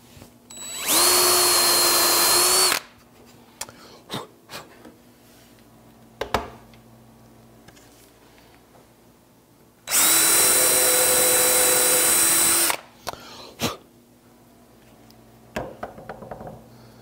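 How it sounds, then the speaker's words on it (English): A power drill drives screws into bed frame slat rails in two loud, sustained whining bursts, each a couple of seconds long, separated by clicks, knocks and handling of wood and tools. "I will go ahead and drive the screws in the slat rails when I do so."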